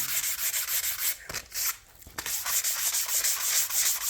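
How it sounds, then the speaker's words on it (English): Sandpaper rubbing back and forth over a wooden Native American flute being repaired from dog chew damage, a steady close scratchy hiss with brief pauses, continuing alone without talk. "I'm just going to use this sandpaper to sand those clamp marks down"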